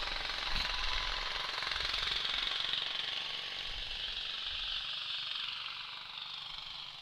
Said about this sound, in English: Lawnmower racing